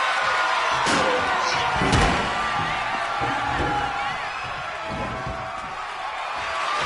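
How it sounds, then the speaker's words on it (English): Steel ring steps are slammed into a wrestler at a live pro wrestling event: a couple of sharp metallic impacts over a roaring crowd, with commentators talking throughout. "Tossing those steel steps like they're nothing."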